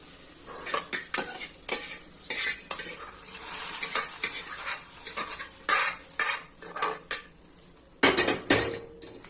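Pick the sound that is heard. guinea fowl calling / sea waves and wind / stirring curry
stirring curry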